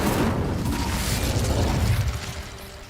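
An Incendio fire spell in Hogwarts Legacy erupts as a loud whooshing, rumbling burst of flame that fades out over about three seconds.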